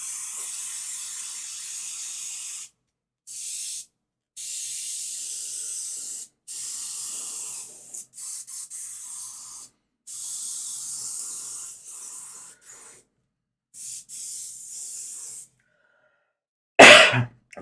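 Aerosol paint sprays in repeated hissing bursts of varying length, separated by short pauses, with a sharper louder burst near the end.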